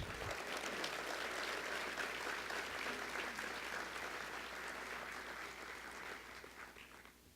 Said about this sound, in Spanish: yo quiero pedirles un aplauso para FENAVI y para sus directivos